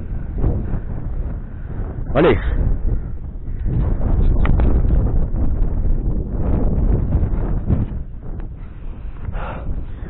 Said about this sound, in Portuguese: Tem muito vento aqui.